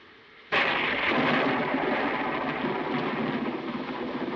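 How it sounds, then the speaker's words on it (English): A heavy thunder crack bursts in suddenly and loud during a storm, then rolls on as a sustained, broad rumble with rain-like hiss that slowly eases but stays strong to the end. "I love thunderstorms, don't you?"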